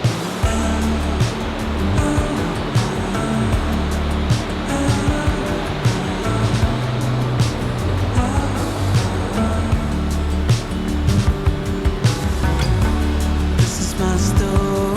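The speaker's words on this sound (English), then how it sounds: "I can hear the water." Grizzly Creek in Glenwood Canyon rushes past as a loud, continuous broadband roar of flowing water, steady and close with no talk over it.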